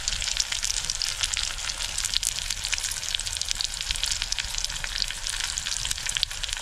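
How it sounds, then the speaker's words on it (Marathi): Cashew vegetable sizzles and fries steadily in a pan with chilli powder, a loud continuous crackle with faint stirring scrapes throughout, no talking. "आता हा परतून घ्यायचं"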